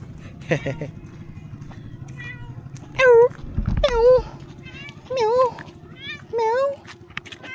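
A cat meows four times in drawn-out, rising-falling cries, close by, with a voice and household noise in the background.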